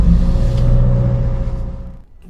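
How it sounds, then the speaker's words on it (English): A 2022 Subaru Forester engine starts up with a loud, close rumble and a steady hum that fades away after about two seconds. "Then start the engine."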